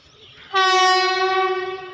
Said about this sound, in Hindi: ओ आगे ट्रेन देखो गाइस